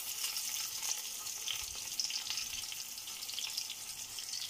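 Flower-cut pointed gourd slices fry in oil, giving a steady, even sizzle close by with a soft bubbling hiss throughout and no voices.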